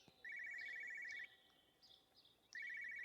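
A telephone ringing in the story-driven game Everybody's Gone To The Rapture: two bursts of an electronic warbling ring separated by a short gap, set against a very quiet background with faint chirps.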